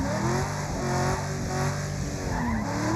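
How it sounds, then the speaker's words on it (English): A race car in the Wreckfest racing game accelerating hard on a long gear ratio, its engine droning steadily and loudly at high revs with tires squealing throughout and no talk. "His car is flooring it."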